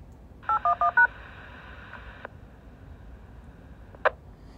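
Handheld Wouxun KG-UV9GX radio keying up on a repeater: four quick DTMF-style tone bursts followed by a sustained beep that cuts off, then a short chirp a moment later, close and clear with no talking.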